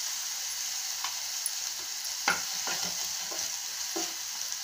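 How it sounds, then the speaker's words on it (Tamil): Cluster beans being stirred in a frying pan with a pinch of turmeric, giving a steady soft sizzle with a few sharper scraping strokes of the spoon, close and alone. "நல்லா பெரட்டி விடலாங்க."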